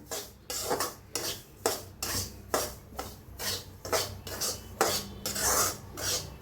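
Ingredients for karanji dry-roasting in a pan, scraped by a spatula in steady rhythmic strokes roughly every half second, each a dry rasping scrape, close and fairly loud with no talking.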